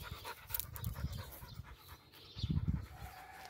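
A pointer dog pants in training outdoors, with rapid, breathy, close-up panting in bursts and a short lull before a louder burst near the end.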